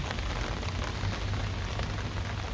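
Heavy rain pours steadily onto a rooftop garden with potted roses and flowers, a dense, continuous wash of drops close by with no voices.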